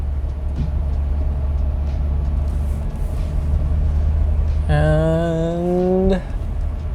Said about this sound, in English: we'll give this thing another run of acceleration